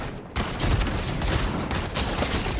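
Gatekeeper shotguns firing in Fortnite Chapter 5 Zero Build, a rapid cluster of loud, close blasts and gunfire crackle packed into a couple of seconds against busy game noise.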